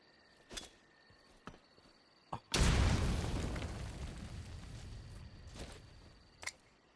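A grenade explodes in Metal Gear Solid 3: Snake Eater with one sudden loud blast and a long rumbling decay, set among a few faint clicks and ticks.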